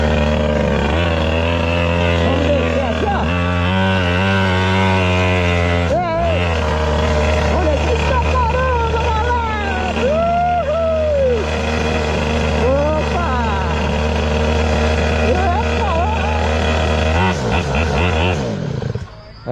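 Small engine of a mini motorcycle idling and revving on a beach at sunset, a loud, steady buzzing drone with rising and falling engine pitch, while someone talks over it throughout.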